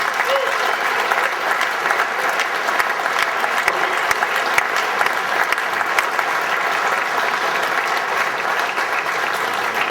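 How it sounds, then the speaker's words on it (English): A crowd at a billiards Hall of Fame induction gives sustained applause, steady dense clapping filling the room for several seconds with faint voices underneath. "So you give them all a round of applause."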